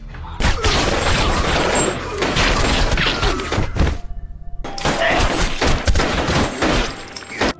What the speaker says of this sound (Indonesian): tiga orang anak buah lain langsung masuk dan menembaki mereka secara membabi buta